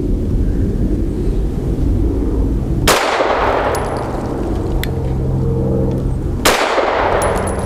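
A BUL Armory Axe C pistol fires lead-free 90 grain flat-tip frangible rounds at an outdoor range, two sharp loud reports about three and a half seconds apart, each followed by a ringing decay over a steady background hiss.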